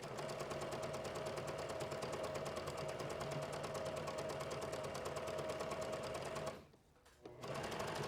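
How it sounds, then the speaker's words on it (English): A domestic sewing machine runs steadily and rapidly, stitching fabric for a top's flutter sleeves. The dense mechanical chatter sounds close, then pauses briefly near the end before starting again. "Get on that sewing machine and then find the fix point on your presser foot."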